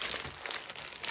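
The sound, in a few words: plastic bags crinkling as they are moved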